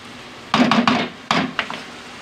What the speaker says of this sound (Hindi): इसको अच्छी तरह दही को मिक्स करेंगे अंदर